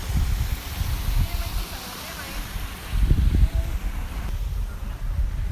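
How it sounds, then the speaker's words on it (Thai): Wind blows across a hilltop campsite on Pha Sok: loud, gusty rumbling buffets the microphone in uneven surges, with a particularly strong gust midway, alongside a faint voice. "รับลมเลยครับ อย่างนั้นรับลมเลย"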